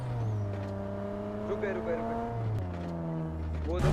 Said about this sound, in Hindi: ये वही नया वाला व्हीकल है जो कि पानी पे भी चलता है और जमीन पे भी चलता है, और इसकी भैया अजीब ही बिल्कुल आवाज इसकी बहुत ज्यादा अजीब सी है।